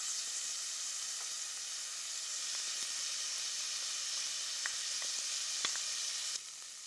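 Garlic sizzling in a hot pan alongside browned sausage over lowered heat, a steady bright frying hiss with occasional small pops and ticks, close and continuous before easing slightly at the end.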